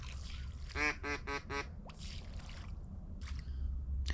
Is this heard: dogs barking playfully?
no